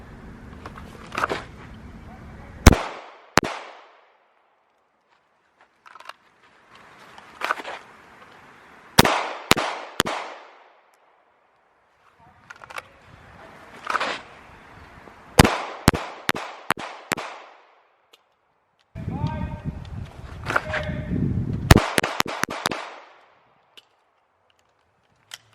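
Rhythm fire at an outdoor shooting range: groups of sharp, loud gunshots in quick bursts, separated by quieter stretches with background noise and faint voices.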